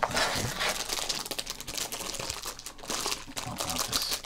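Close, crisp crinkling and crackling of a 1987 Topps baseball card rack pack's wrapper being torn open, a busy run of rustles and snaps with no voices.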